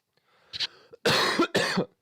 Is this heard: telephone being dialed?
no